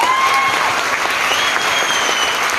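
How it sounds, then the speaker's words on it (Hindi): An audience at a training seminar clapping loudly, a dense continuous burst of many hands close and steady throughout. "जिंदा है तो हाथ ताली जोरदार होना चाहिए"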